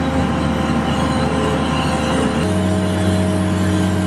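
An X35 Apollo seeder drives across a field with its openers dropped, giving a loud, continuous mechanical rumble and rattle that shifts to a steadier drone partway through, with no talk.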